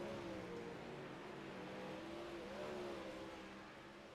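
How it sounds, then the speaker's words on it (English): Race cars circle a dirt oval track in a 360 Knights Series event, a steady loud engine drone with rising and falling revs, one car pulling close as the noise swells, then easing slightly toward the end. "Cars on the racetrack."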